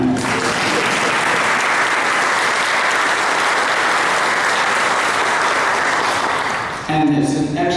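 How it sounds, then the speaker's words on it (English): Sustained, dense audience applause fills a lecture hall on legal issues for transgender adults and children, loud and steady for about seven seconds before a voice briefly cuts in at the end. "You can clap on that."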